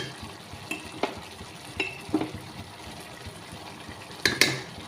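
Chicken curry being stirred in a pan after ginger paste and chili powder go in, with a low sizzle and scattered scraping strokes of the spoon, a few louder clinks near the end, and no talking.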